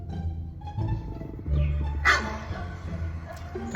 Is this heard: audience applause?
no